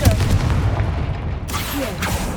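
In the Hogwarts Legacy video game, a Confringo fire spell bursts against stacked bones in an archway with a deep, heavy boom and crackling debris, followed by a second lighter impact after a short pause.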